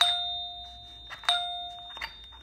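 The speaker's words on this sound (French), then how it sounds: "le boîtier que je viens de démonter, c'est une sonnette, en fait" An old electromagnet doorbell, taken out of its housing during an apartment renovation, gives several bright metallic dings over a sustained ringing tone, with a few sharp strikes spaced unevenly.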